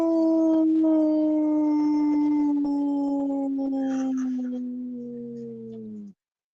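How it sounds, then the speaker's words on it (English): A single long howl from an unseen animal in the woods, a steady tonal wail about six seconds long that slowly drops in pitch and cuts off abruptly, with faint background noise. "just about a 5-second howl."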